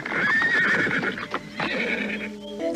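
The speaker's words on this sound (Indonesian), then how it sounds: "Tak lama kemudian rombongan itu sampai di halaman keraton." The horses of a riding party arrive at a palace courtyard, with a loud, close neigh whinnying over clip-clopping hooves. Further snorts and whinnies follow, and there is no talking.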